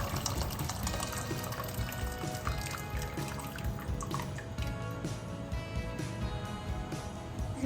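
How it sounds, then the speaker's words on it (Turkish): Hot water pours steadily into a pot of bulgur for pilaf, a continuous close splashing and trickling stream that stays at an even level throughout. "Şimdi üzerine 3 su bardağı kadar sıcak su ekleyelim."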